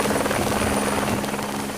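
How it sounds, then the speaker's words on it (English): A helicopter airlifting residents from a school during bushfires thunders close by, its rotor chop a dense continuous roar with a steady engine whine above it. "a school had to be evacuated by helicopter"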